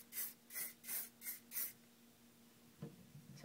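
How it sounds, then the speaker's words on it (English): Hair spray on freshly curled hair, five quick, close hissing bursts in an even rhythm, followed by silence and a faint rustle. "I tend to spray the side once I finish."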